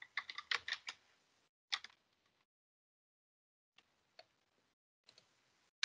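Quiet typing on a computer keyboard while entering text in an Excel spreadsheet: a quick burst of clicky keystrokes, a second short cluster, then a few scattered isolated taps amid silence.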